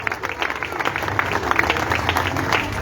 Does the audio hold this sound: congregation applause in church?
yes